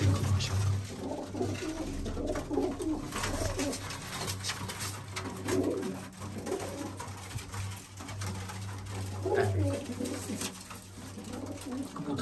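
Pigeons coo steadily nearby while flying pigeons are shown off, with a constant low hum and background noise but no clear talk.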